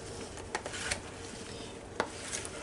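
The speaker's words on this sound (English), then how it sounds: "we're going to put the grapes and just stir everything together" Watermelon pieces and grapes are stirred together in a bowl for a fruit salad, a quiet wet shuffling with a few soft clicks of the spoon against the bowl.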